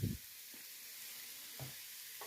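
Chopped onions and grated ginger sizzle steadily in hot oil in a pan, a soft broadband frying hiss running throughout with a few brief knocks, faint and close with no talk.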